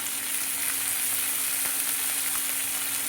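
Onions fry in a pan with a pinch of salt, giving a steady, close, bright sizzle that holds evenly throughout with no voices.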